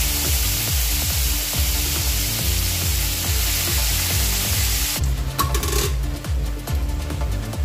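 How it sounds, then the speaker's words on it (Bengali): Mixed winter vegetables hit hot oil in a pan and set off a loud, dense, steady sizzle that fills the whole stretch. Near the end there is a brief shift with some clattering stir noise, and no one speaks. "এবার আমি এই তেলের মধ্যে সবজিগুলো ছেড়ে"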